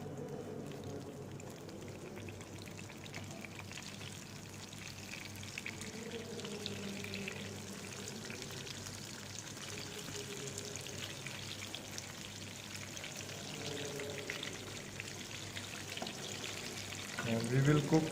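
Eggplant (brinjal) beignets frying in hot oil in a steady close sizzle with crackling and bubbling throughout, louder and spattering near the end when a perforated spoon turns the slices.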